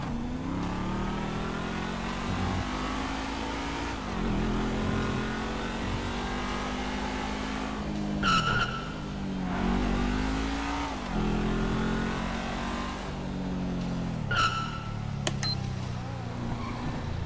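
A car engine revs hard in the GTA video game during a roleplay traffic stop, rising and falling through repeated gear shifts with a few sharp tyre screeches, loud and continuous.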